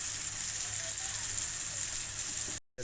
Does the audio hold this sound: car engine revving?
no